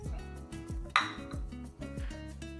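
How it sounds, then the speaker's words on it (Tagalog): A spoon knocks and scrapes through igado, a pork liver stew with carrots, green beans and peas, in a metal pan, with a few rhythmic clanks and one sharper clink, fairly soft and close. "Hahaluin ko ng konti."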